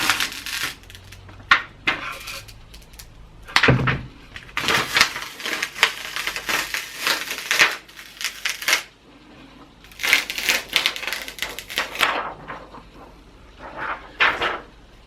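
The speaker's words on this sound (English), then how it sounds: "If you're gentle, you can peel this off." A new resin layer is peeled off a printed wooden sign, giving close crackling, tearing and crinkling bursts in irregular stretches with brief quieter gaps.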